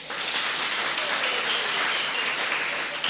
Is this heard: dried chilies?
no